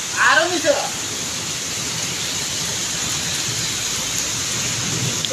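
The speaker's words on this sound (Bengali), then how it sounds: "ও আল্লাহ রহমতের বৃষ্টি," Rain falls in a steady, even hiss that lasts the whole clip, with a short burst of voices or other sounds near the start.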